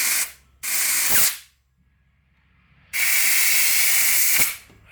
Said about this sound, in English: Let's try cleaning it out with some compressed air.